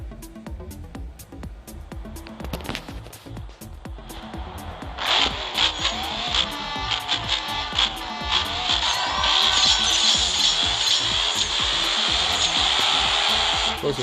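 A race car engine in a video game drones and revs, starting with scattered clicks and shuffling, then rising into a steady, loud high-pitched whine that holds to the end.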